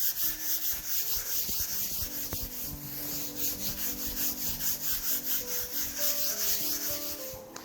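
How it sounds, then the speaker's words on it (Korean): Fine 600-grit sandpaper rubbed along the grain across the top face of a wooden slab, a steady close scratchy swishing in even back-and-forth strokes, with no voices. "지금부터 제가 상부면을 샌딩해 보겠습니다."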